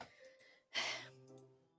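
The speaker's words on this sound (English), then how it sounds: "A sharp inhale, like someone is sucking the air through their teeth." A sharp, hissing inhale through clenched teeth from the video game Doki Doki Literature Club, heard once, close and fairly loud, after a few faint breaths, with quiet tonal background sound.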